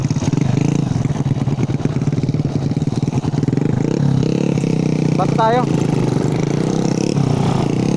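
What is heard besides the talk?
motorcycle engine revving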